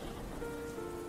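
Steady rain falls in an even, unbroken hiss for just over a second, with no voices over it.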